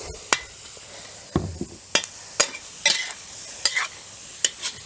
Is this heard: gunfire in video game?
no